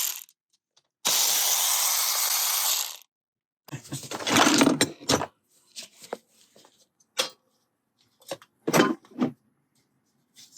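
Ratchet work on the 10 mm bolts of a Honda CL77 cam chain tensioner: a long burst of rapid clicking, then several short separate bursts of ratcheting and metallic taps, close and fairly loud with quiet gaps between.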